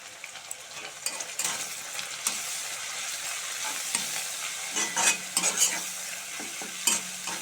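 Dried fish frying in a pan for a spicy curry, a steady bright sizzle with scraping stirring strokes that grow louder and clatter near the end, no voices.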